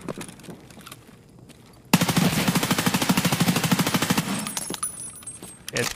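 Sustained rapid automatic fire from an M4 rifle in Escape From Tarkov, a loud continuous burst of dense, evenly spaced shots lasting a few seconds, ending abruptly with a few scattered reports afterward.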